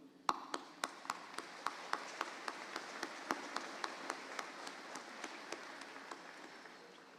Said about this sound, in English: Graduates, please join me in applauding their work.